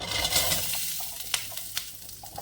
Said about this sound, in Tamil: கொஞ்சம் பூண்டு இப்போ போட்டு வதக்கிக்கலாம்